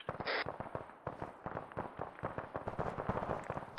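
Rapid gunfire in the military shooter game Arma 3, a dense stream of sharp shots and bursts cracking in quick irregular succession, fairly faint and distant-sounding with overlapping reports.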